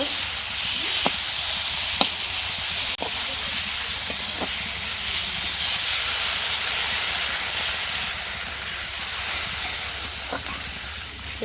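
Steady loud hiss and sizzle of a little water poured onto ground spice paste frying in a pan for egg curry, continuous for several seconds with a few faint clicks.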